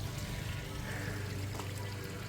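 Water pours from a homemade three-tier vacuum shower pond filter, a steady splashing rush close by with a low undertone, continuous and without speech.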